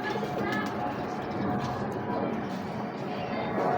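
Ferozpuri pigeons coo softly amid dense, noisy background rumble, the low throaty calls hard to pick out from the surrounding clatter.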